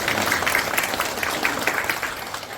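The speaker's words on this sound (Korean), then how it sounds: "동의하시면 박수로 스스로를 위해서" Audience applause fills a lecture hall, a steady wash of many hands clapping at fairly close range with no break, though no separate claps stand out.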